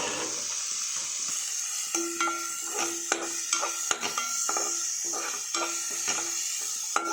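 Chopped onion, green chili and coriander leaves stirring and frying in hot oil while a spicy potato snack is made, a steady close sizzle broken by clinks and scrapes of a spoon against the pan.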